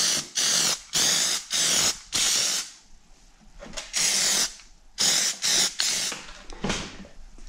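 Aerosol spray can applying coats of Plasti Dip rubber coating onto car badges, heard as a series of close, loud hissing bursts of about half a second each, separated by short pauses, with no talking.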